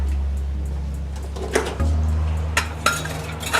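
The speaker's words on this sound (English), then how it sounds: "I'll get my plates out" Plates taken from a home kitchen oven while fish and chips cook, with a steady oven or extractor hum that shifts partway through and several clear ceramic clinks and knocks.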